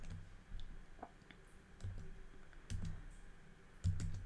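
Quiet typing on a computer keyboard while Laravel code is written, with a few scattered soft key clicks and taps spread out over a faint background.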